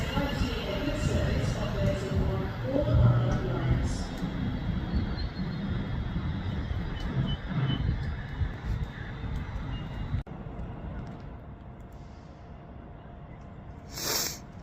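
A Class 350 train passes through Rugby station on the West Coast Main Line. A loud, rushing rumble lasts about ten seconds, then drops away to quieter station ambience, with a brief high beep near the end.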